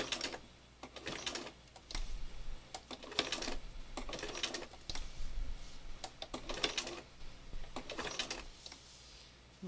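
A sewing machine runs black zigzag stitching along a skinny fabric tail, in short quiet bursts of rapid mechanical chatter separated by brief pauses.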